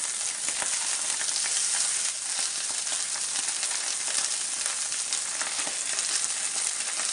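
Salmon fillets pan frying in a pan that is not non-stick, with a loud, dense, steady sizzle and crackle that runs unbroken throughout.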